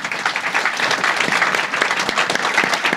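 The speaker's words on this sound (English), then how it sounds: "Let's give them a round of applause, please." Dense, loud clapping from a conference audience at an application security event, rewarding a panel of security executives, continuous and even throughout with no voices standing out.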